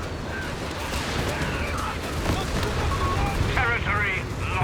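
An artillery barrage in the video game Company of Heroes 3 sends dense, continuous booms and gunfire rumbling across the battlefield while a voice talks over it.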